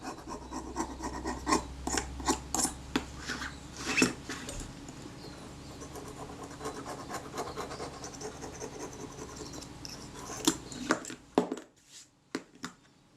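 Hard filth is scraped off a part of a Kodak Retina IIIS camera, giving close, repeated gritty rasping strokes that keep going steadily and then thin out into a few sharp scratches and taps.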